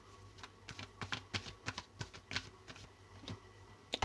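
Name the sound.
tarot cards being shuffled and drawn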